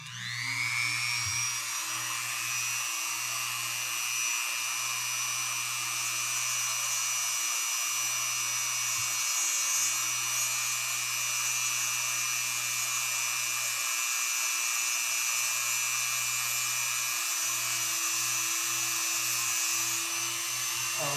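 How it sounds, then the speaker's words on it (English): Dremel rotary tool spinning at high speed while grinding a lock pin, a steady piercing whine that runs continuously and evenly for the whole stretch with no voices. "Put the Dremel flat on the table."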